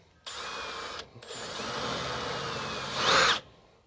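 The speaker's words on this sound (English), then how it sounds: "So go ahead and get your drill loaded with your 1/8 inch bit." Power drill with a 1/8 inch bit boring into sheet metal during a headliner install in a 1967-72 Chevy C10: two close, loud whirring bursts, a short one then a longer run ending in a sharper grinding bite.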